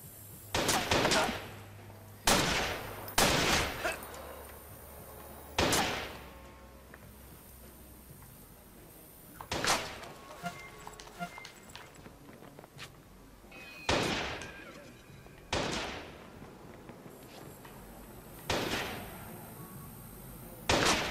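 Gunfire in the Watch_Dogs video game, a gang fight with a sniper rifle: sharp separate shots and short bursts spaced a few seconds apart over a quiet background, loud and close.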